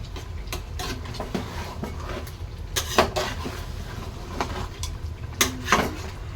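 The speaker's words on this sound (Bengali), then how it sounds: "এখানে মটন কষাচ্ছি" Mutton being stir-fried with potatoes in a home kitchen pan, heard as scattered spatula scrapes and clinks against the metal over a low background hiss, with a few sharper knocks standing out.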